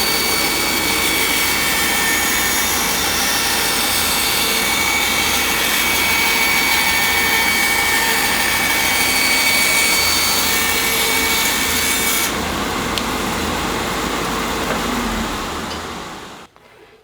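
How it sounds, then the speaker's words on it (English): A band saw runs in a wood shop, cutting wood freehand along a gentle curve, giving a loud, steady broadband whine and hum that holds for about twelve seconds, then thins and cuts out near the end. "As long as it's kind of a gentle curve, you can freehand that cut."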